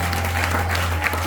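Church congregation applauding the Lord at a Sunday service, a steady wash of many hands clapping that fills the short moment without a break.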